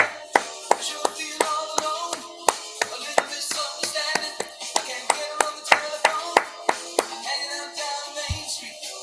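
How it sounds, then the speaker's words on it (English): Hands clapping along with music, sharp close claps repeating in an uneven rhythm that drifts off the beat over faint background music. "you're clapping along with the music, but it was like so off"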